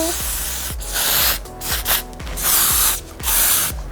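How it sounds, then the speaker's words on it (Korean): Hairspray hisses from a can onto styled hair in several bursts, loud and close, the longer sprays separated by brief pauses and small clicks of the nozzle. "스프레이로 제가 마무리를 한번 해보도록 하겠습니다"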